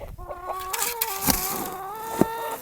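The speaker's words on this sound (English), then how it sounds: "let's take care of these chickens because obviously they're talking to me" Several chickens cluck and murmur close by in a steady, overlapping chatter, with a few sharper calls rising above.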